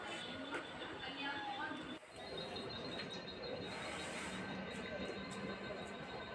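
A suburban train rolls toward Thane with an almost empty carriage, producing a continuous rumbling, rattling ride noise from a window seat, with faint bird chirps and a brief dip in the middle.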